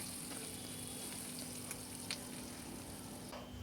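Cloves and bay leaves sizzle steadily in hot oil for a tempering, a constant close frying hiss with a faint steady hum and small crackles throughout.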